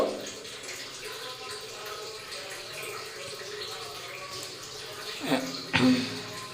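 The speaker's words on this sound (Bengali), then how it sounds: "পেঁয়াজটাও ধুয়ে নিই ধনে পাতাটাও ধুয়ে নেব" Onion and coriander leaves are rinsed under a running tap in a home kitchen, with a steady moderate wash of flowing water and a couple of sharper splashes and knocks near the end.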